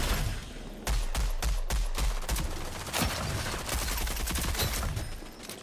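Gunfire in the video game Rogue Company, a string of sharp shots spaced unevenly, some in quick clusters, over a dense continuous backdrop of game noise.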